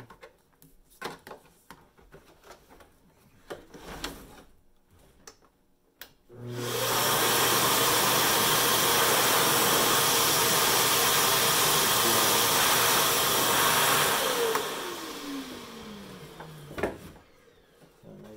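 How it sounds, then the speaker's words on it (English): A Festool CT SYS HEPA dust extractor blowing air from its inlet: a steady, loud hissing rush of air that switches on abruptly, holds for several seconds, then winds down with a falling whine, with faint handling noises around it. "There's an air inlet. So if you needed to blow up your raft on a summer day,"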